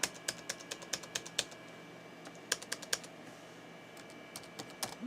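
Rapid clusters of crisp key clicks on a Dell Latitude LM Pentium laptop keyboard tap out in irregular bursts with short pauses, close and fairly quiet, no voices.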